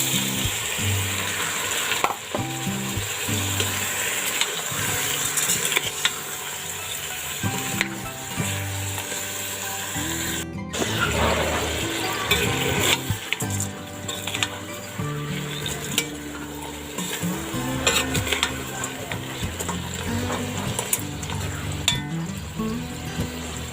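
Mung beans hit a hot pan already seasoned with salt, pepper and pork cubes, and they sizzle and fry steadily while a utensil stirs and scrapes against the pan with occasional clinks.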